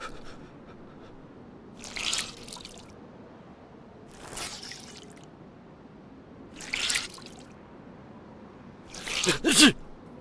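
A person sneezes repeatedly, giving four short bursts spaced a few seconds apart over a quiet background. The last burst is the loudest and sounds like a double sneeze.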